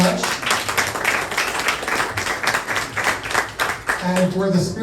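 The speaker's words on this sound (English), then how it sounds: "A round of applause for everyone" Applause from an audience at an event, clapping mixed with a voice talking over it, fairly loud and close, with speech becoming clearer toward the end.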